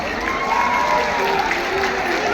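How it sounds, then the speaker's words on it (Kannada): Steady applause fills a university auditorium at a festival, dense and even. Clapping from a large crowd is mixed with a few faint cheers and voices throughout. "ಬರಲಿ ಒಮ್ಮೆ ಜೋರಾದ ಚಪ್ಪಾಳೆ."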